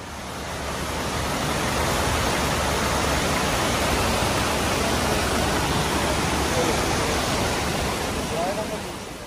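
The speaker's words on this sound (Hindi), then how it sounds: "ये जनाब दो नाले हैं एक यहाँ से आ रहा है एक वहाँ से आ रहा है" Two mountain streams swollen after a cloudburst pour together along the Ratti Gali track, a steady, loud broadband rush of fast water that fills the whole stretch without pause.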